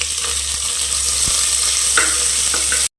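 Onions, cinnamon and cloves fry in hot oil in a pan, giving a loud, steady sizzle up close. A few faint stirring clicks sound through it before the sound cuts off.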